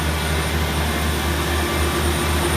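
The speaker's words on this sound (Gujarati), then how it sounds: "આ કમ્પ્રેસર છે હવા બનાવે છે" The air compressor engine on a borewell drilling truck runs as a loud, steady, unbroken roar close by, with a constant hum and high whine and no voices.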